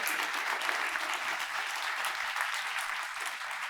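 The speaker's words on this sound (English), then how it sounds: "I think we should give that an applause" A panel audience in Oslo breaks into sustained applause, a dense, even patter of many hands clapping at moderate distance with no pauses.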